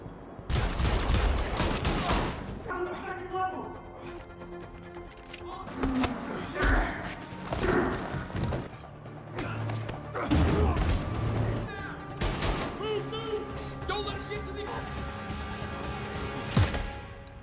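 Bursts of gunfire in a film fight scene in which one man battles many armed troops, with sharp shots, clanks and thuds coming in uneven clusters under a narrating voice.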